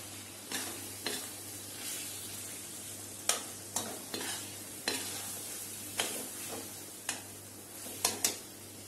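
Mashed potato goes into a pot of khatta meetha chhole and is stirred, a spoon scraping and knocking the pot in about a dozen sharp, irregular strokes over a low sizzle, close and without speech.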